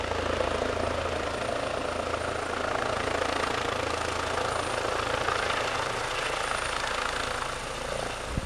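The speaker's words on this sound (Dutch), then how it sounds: "De traumahelikopter was ook ter plaatse." Trauma helicopter at a road accident scene, its rotor and engine producing a steady, loud broadband roar with low thumping throughout, continuous with no talk.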